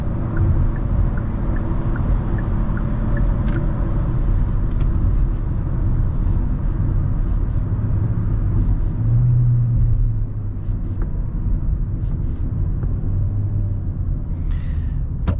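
A 2024 Hyundai Elantra in base trim hums along with a low road rumble and steady cabin drone, the engine note shifting slightly as the transmission moves up and down through its gears, with faint ticking clicks inside.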